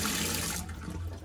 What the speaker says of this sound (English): I'm gonna wanna wash that off with the warm water once again